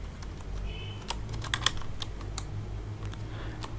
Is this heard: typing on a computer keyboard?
yes